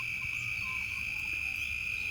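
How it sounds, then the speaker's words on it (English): Crickets chirp in a steady, unbroken high trill with no breaks, a continuous night chorus that carries on alone without any talk. "crickets are there"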